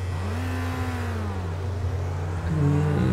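A formula race car in Project Cars pulls away from the start line on pole, its engine note climbing steadily and loud, with other cars' engines droning and rising alongside.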